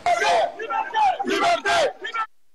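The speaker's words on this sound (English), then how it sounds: "Crowds filled the streets of Bamako, calling urgently for a return to constitutional order and quick elections, raising banners and chanting slogans for freedom and democracy." A crowd chanting slogans in the streets of Bamako, loud rhythmic bursts of massed voices rising and falling in short call-like phrases close by.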